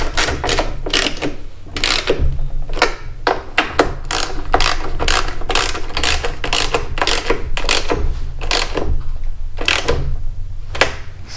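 A ratchet with a 5/16 socket tightens bolts on a snow blower carburetor during a rebuild, giving repeated close, sharp clicking bursts in quick irregular strokes with brief pauses, loud and alone.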